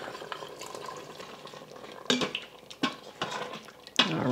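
A spoon stirs a thickening slurry into a pot of beef brisket noodle soup, making soft scraping and three or four sharp metallic clinks against the pot, moderately close, with no talking.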